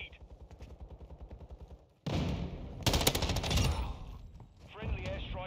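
Rapid M13B automatic rifle fire in Call of Duty: Modern Warfare II, a fast rattling burst up close followed by loud sustained gunfire and explosive blasts, dense and continuous with game noise.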